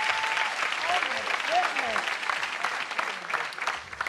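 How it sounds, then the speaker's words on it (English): An audience applauds, a dense continuous wash of clapping throughout, with voices and whoops rising over it now and then. "Can we have a big round of applause?"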